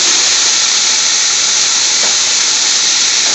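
Three large chopped onions drop into a hot pan for Indian-style spinach, setting off a loud, steady, close-up hiss of steam and spitting oil that holds unbroken for several seconds with no voices.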